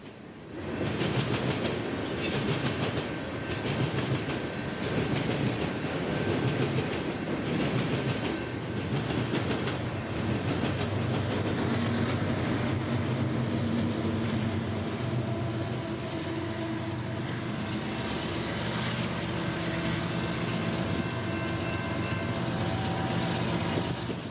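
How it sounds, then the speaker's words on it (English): A heavy freight train led by an ES44DC diesel locomotive rumbles past near Fresno, California, steadily with a droning engine and rhythmic wheel clatter, loud and close throughout, with no one speaking. "With an ES44DC leader, the Herzog train barrels south."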